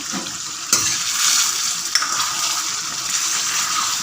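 Yogurt being stirred into mutton malai karahi in a sizzling pan, a steady bright fry with a couple of sharp spoon scrapes against the pot, close and fairly loud, no voices.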